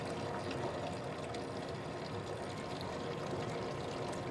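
Recycled tap water pours steadily into a glass, a continuous close-up splashing rush that holds at an even level throughout.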